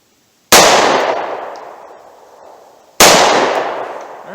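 Two sharp gunshots from a .38 Special revolver loaded with Buffalo Bore lead-free ammunition ring out about two and a half seconds apart, each loud and close, with a long echo trailing off after it.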